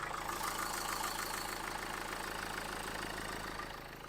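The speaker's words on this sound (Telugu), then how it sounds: "ఒకసారి ఇంజన్ సౌండ్ కూడా వినండి ఎలా ఉంది అనేసి." A used Renault Duster's engine idles steadily, a close, even mechanical hum and clatter that holds constant before easing slightly at the end, with no voices over it.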